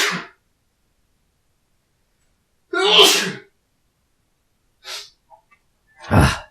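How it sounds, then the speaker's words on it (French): A person sneezes sharply once, close and loud, between short breathy gasps and exhales in an otherwise quiet room. "J'éternue."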